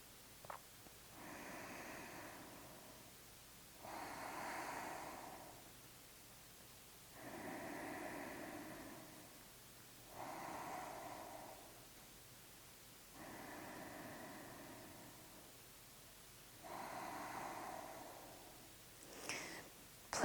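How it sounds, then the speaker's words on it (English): Slow, deep breaths during a yoga practice for foot pain, six long soft inhale-exhale swells spaced evenly with quiet gaps between, close and alone. "and take a few breaths here."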